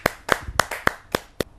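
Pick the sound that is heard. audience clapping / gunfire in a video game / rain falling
audience clapping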